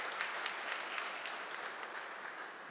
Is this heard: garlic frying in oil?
no